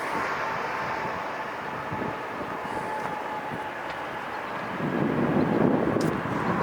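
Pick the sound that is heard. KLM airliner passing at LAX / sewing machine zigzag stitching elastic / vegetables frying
KLM airliner passing at LAX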